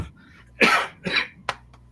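Two harsh coughs in quick succession, then a shorter throaty burst, close to the listener against a quiet background.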